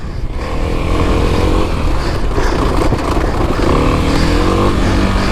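A 2021 Kawasaki KLX300 dirt bike runs steadily over off-road single-track trails, its engine a loud, continuous close-up drone with small rises in revs and rattling over rough ground, and no talking.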